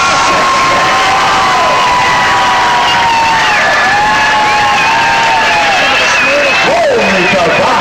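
A loud crowd cheers, whoops and applauds nonstop at a pierogi eating contest, with shouts and whistles rising over the steady roar.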